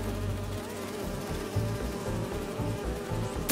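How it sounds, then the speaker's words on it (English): Holographic bee wolves in the video game Marvel's Spider-Man 2 buzzing continuously and loudly, a dense insect-like drone with pulsing low hum throughout. "Do you see those little holographic bee wolves?"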